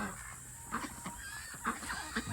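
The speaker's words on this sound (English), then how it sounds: "That rooster right there." A rooster at a barn gives a few soft, spaced clucks over a faint, steady farmyard background.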